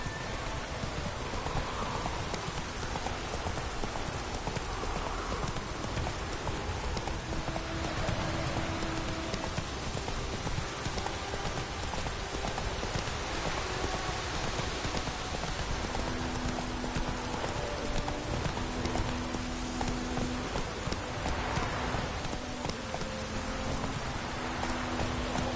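Roach, the horse in the video game The Witcher 3, gallops through rain: rhythmic clip-clop hoofbeats run continuously over a dense steady hiss of falling rain, with faint tonal game sounds drifting in and out.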